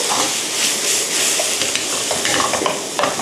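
Kimchi stir-fries in a hot pan with a loud, close, continuous sizzle. Scraping, stirring strokes and light clatters from the utensil run through it, with no voices.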